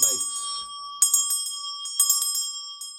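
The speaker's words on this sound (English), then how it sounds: "Next thing I place on my altar is this Varja bell from Tibet" A small metal Tibetan vajra bell rings several times with bright, sustained overtones, each strike followed by a long shimmering ring, loud and close.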